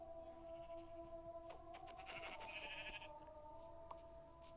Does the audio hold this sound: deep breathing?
no